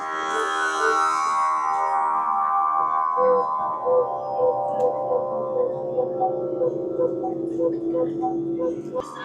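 Large, deep guitar-like strings at the Auroville Sound Garden ring out with sustained, shimmering tones, a few soft plucks sounding slowly one after another and decaying gently, alone without talk.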